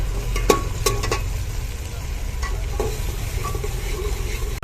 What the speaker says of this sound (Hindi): अब इसको करें जी मिक्स।